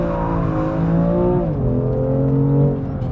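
A sports car engine revs hard toward 8000 rpm, its loud, continuous harmonic drone climbing, dipping once at a gear change around the midpoint, then pulling steadily on, close up and with no voices.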